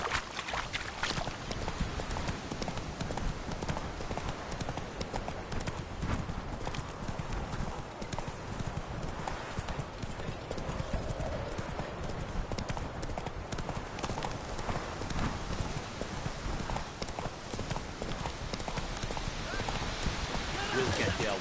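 Geralt's horse Roach from The Witcher 3 galloping, steady fast hoofbeats running continuously under talk and game ambience for the whole stretch, with an occasional whinny.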